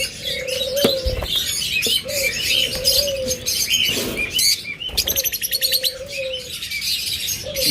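Caged pet birds such as lovebirds, budgerigars, cockatiels and finches chirp and tweet busily at close range, with repeated low dove-like coos and a rapid trilling burst near the end.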